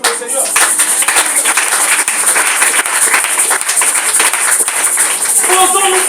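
A church congregation breaks into sustained, dense applause for the Lord during a sermon, loud and close, with voices mixed in.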